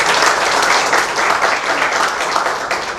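A class of students claps for a classmate named Shivani during a law lecture on torts, a loud, dense burst of applause that holds steady for a few seconds.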